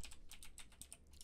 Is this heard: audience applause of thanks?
no